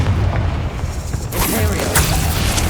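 Confringo spell blast in the video game Hogwarts Legacy: a deep, heavy boom with rumbling low end and a bright crackling burst midway, loud and dense over continuous game noise.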